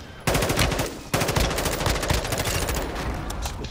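Rapid automatic gunfire in a shooter game, dense bursts of close shots rattling steadily with a couple of sharp onsets.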